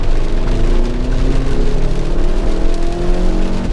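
Hyundai Santa Fe with a 2.5-liter four-cylinder turbo engine hauling up a steep Vancouver hill, a loud, steady droning engine note with slowly rising pitch, continuous and close with no talk.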